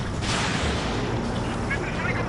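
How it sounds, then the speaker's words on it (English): Missile launch and explosion in the combat flight game Ace Combat 7: a dense, loud roar of booming blasts and rushing noise fills the whole moment, with radio voices talking under it. "missile launch"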